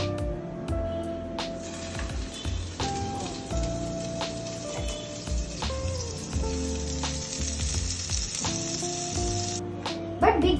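Butter sizzles as bread fries in a pan, a steady crackling hiss with intermittent sharp clicks and clatter of utensils or cookware, with no talk.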